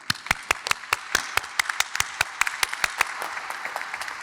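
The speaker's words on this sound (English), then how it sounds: "please join me in a warm round of applause" Audience at a Yale Naval and Air Force ROTC president's review gives a short round of applause, brisk, distinct claps in a fairly steady rhythm, thinning slightly toward the end.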